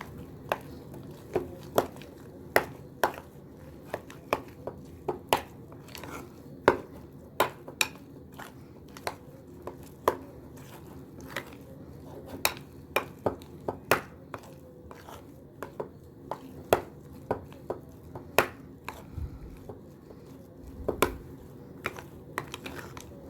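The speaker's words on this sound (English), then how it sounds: "I'm going to continue to mix it" A utensil stirs deviled egg filling in a bowl, tapping and scraping the sides in quick, uneven clicks that run steadily for over twenty seconds at close range, with no talking.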